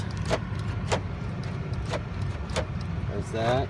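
Power door locks of a 2001 GMC Sierra two-wheel-drive gas pickup, several sharp clunks spaced apart inside the cab over a low idle hum, with brief speech near the end.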